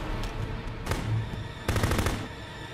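Gunfire rattles in a Full Spectrum Warrior combat scene, with scattered shots over a steady din and two louder bursts of rapid fire, the second a dense fusillade lasting nearly half a second.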